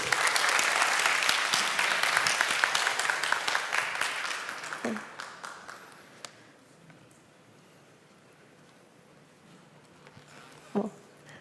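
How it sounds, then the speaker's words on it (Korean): An audience at a developer session applauds loudly for about five seconds, the clapping dense at first and then dying away into a quiet room with a couple of isolated knocks. "박수 한번 쳐주십시오."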